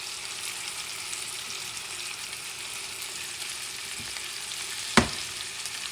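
Salmon steak and smashed garlic cloves fry in a pan with a steady, even sizzle throughout, broken near the end by one brief sharp clatter.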